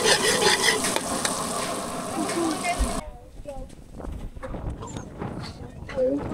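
Butter and plenty of garlic sizzle in a pan while lobster is cooked, with a dense frying crackle over the first half that thins to quieter scattered sizzling and stirring clatter.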